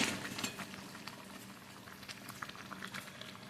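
Matar paneer masala gravy with garam masala and kasuri methi simmers in a pan, giving a soft, continuous bubbling and light popping patter, fairly faint and free of talk.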